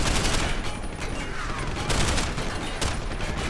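Blind gunfire from behind cover in Deus Ex: Human Revolution, a steady rattle of rapid shots running throughout at fairly even loudness.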